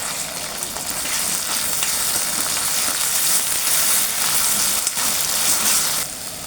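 A small amount of spice paste, about one and a half to two spoonfuls, sautés in a pan on lowered gas for a field bean (val) curry, giving a steady, continuous sizzle throughout with no talking.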